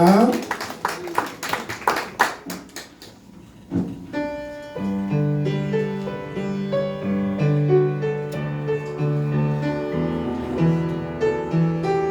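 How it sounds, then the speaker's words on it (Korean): Worshippers in a Korean church service clap their hands in a sharp, even rhythm for a few seconds before instrumental worship music takes over, with voices present. "하나님께 예배의 박수 올려드리겠습니다"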